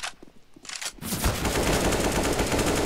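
An AK rifle fires in the video game CS:GO: a few scattered shots, then a loud, dense, sustained burst of automatic gunfire rattling on without a break.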